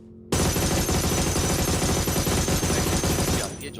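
Rapid automatic gunfire in a BGMI battle royale match, a dense, loud burst of shots rattling continuously for a few seconds before tapering off.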